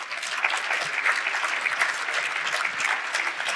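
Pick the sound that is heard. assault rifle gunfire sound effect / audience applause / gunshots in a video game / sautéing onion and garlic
audience applause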